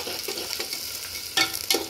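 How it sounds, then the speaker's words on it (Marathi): Onions sautéing in hot oil for a khichdi tempering, a steady close sizzle with a couple of louder bursts of stirring near the end. "थोडे कांदे चांगले परतून घ्यायचे तेलामध्ये"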